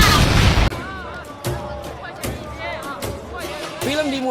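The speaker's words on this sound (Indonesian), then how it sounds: "meledak." A heavy explosion boom in an action film bursts out loudly, followed by a few sharper thuds and cracks over a busy, rumbling background.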